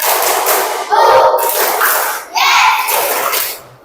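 A group claps in short rhythmic bursts, pausing between sets, with a voice leading over the clapping.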